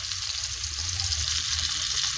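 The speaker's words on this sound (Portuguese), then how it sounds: "e aí vou deixar ele fritando" A handmade hamburger patty fries in a pan with a steady, close, even sizzle and crackle of hot fat throughout, with no voices.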